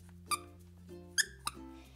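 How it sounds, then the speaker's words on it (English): A small clam-shaped squeaky baby toy, similar to a dog toy, gives three short high squeaks spread across a quiet background. "And then we have this little clam, and it's almost like a dog toy, and it also squeaks"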